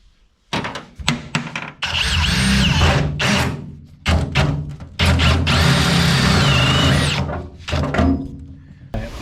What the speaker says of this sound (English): let's drill a hole for this bilge